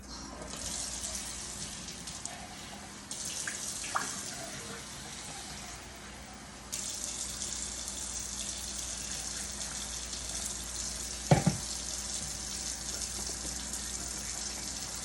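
Tap water pours steadily into a bowl of thick buttermilk cornbread batter, a continuous gushing hiss with a brief clink near the end, no talking.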